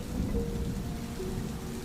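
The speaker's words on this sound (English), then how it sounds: "the constant pitter-patter of rain had lulled me into a drowsy mess" Steady heavy rain pours down in a dense, unbroken hiss with a low rumbling undertone, constant and fairly loud, with no voices.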